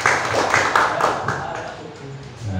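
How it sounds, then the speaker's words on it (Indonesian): Brief applause at a school teachers' gathering, scattered hand claps that thin out over a few seconds, with some voices mixed in. "Tepuk tangan untuk SD2 Pataran."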